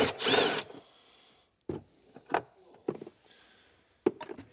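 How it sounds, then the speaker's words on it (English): Tool work removing two 10mm bolts on a 2020 Hyundai, starting with a loud burst of ratcheting or driver noise, then a series of short clicks and knocks with quiet gaps. "Now we have two 10mm bolts to remove."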